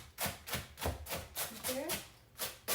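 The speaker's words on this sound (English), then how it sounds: "I'm still cutting my cabbage." A knife chops through cabbage in steady, evenly spaced cuts, about a dozen soft thuds on a board, close and fairly quiet, with a person speaking in between.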